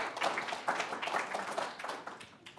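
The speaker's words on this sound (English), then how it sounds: "come on up so we can all give you a round of applause." Audience at a talk about water claps in a round of applause, a moderately loud burst of irregular clapping that thins out toward the end with no talking over it.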